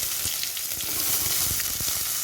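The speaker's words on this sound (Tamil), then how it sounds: "இப்போ நம்ம கட் பண்ணி வச்சுருக்கிற ஆனியனை சேர்த்துக்கலாம்" Chopped onions sizzle and fry in hot oil in a pan for oyster mushroom biryani, with green chillies already in; a steady close crackle with occasional stirring scrapes and no talk.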